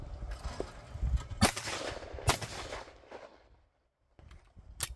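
A shotgun fires at clay targets during a compak sporting round: a few loud, sharp reports, each followed by a short decaying echo, with gaps of quiet between them outdoors.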